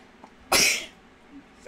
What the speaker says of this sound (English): I'm going to sneeze, I can tell.